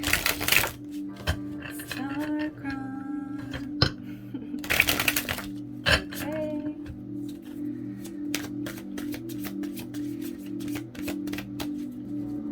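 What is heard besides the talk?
shuffling a tarot card deck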